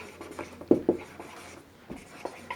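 Marker or chalk writing on a classroom board during a maths lesson, heard as short scratchy strokes with a few firmer taps, close and fairly quiet, with no talking over it.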